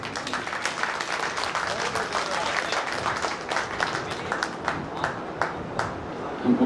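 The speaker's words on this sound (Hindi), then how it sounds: "क्या मुझे कहना पड़ेगा कि ताली एक बार और बजा दो?" An audience claps through a Hindi kavi sammelan poetry recital at a Panchkalyanak festival at Padmavati Dham, Tijara: sustained, dense crowd applause with a voice speaking over it.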